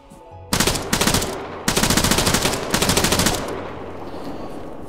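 Automatic gunfire in Arma 3, a King of the Hill battle for Elektro: several loud, close bursts of rapid rifle fire in quick succession, separated by brief pauses, then fading into softer ambient battle noise.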